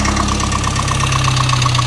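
A Chevy Luv truck engine idles steadily up close, a loud, even, throbbing rumble with a faint rhythmic knock and no voices.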